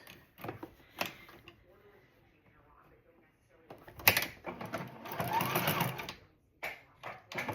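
A sewing machine stitches strips for a rag quilt in short, soft bursts and a longer whirring run, close by, with handling clatter between stops.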